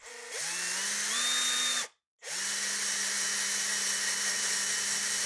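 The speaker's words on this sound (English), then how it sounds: "I clamped it to a piece of wood and tried a twist bit." A power drill spins a twist bit through gasket material clamped to a piece of wood, a loud steady whine that rises in pitch, stops briefly, then restarts and runs on evenly.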